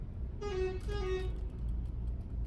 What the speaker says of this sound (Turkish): arkada kamyonlar korna çalıyor ama boş